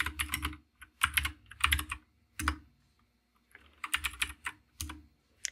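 A terminal command is typed on a computer keyboard in quick clustered bursts of crisp keystrokes, with a short pause midway before another flurry. The keys are close and clear, and no one speaks.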